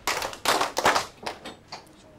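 A group claps in a few sharp bursts, several close together and then fading off, answering a request during a primary-school Tudors history lesson; the hits sound near and uneven rather than in unison.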